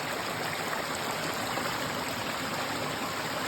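A forest stream flows steadily with a continuous broadband rush and trickle of water, close and constant throughout, with no voices.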